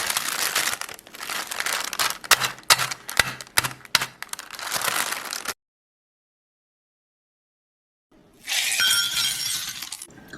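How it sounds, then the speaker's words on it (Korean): Hardened homemade dalgona honeycomb toffee, cooled on baking paper, being broken into pieces: dense crackling, snapping and crinkling shards for about five seconds, then a pause and another short burst of crackling. "저는 누르지 않고 그대로 식혔다가 적당한 크기로 부셨습니다"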